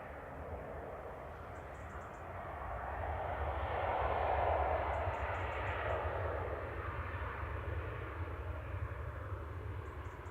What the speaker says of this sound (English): TUI Dreamliner just about to touch down, coming in from Florida